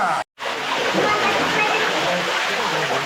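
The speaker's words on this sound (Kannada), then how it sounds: "ಇಲ್ಲಿ ಕಾಣಿಸುತ್ತೆ ನಿಮ್ಗೆ ನೀರು ಹೇಗೆ ಬರ್ತದೆ ಅಂತ." Water streams from the mouth of a stone Nandi statue into the temple pond at Sri Yaganti Uma Maheswara Temple in Andhra Pradesh, a loud, continuous rushing splash after a brief cutout at the start.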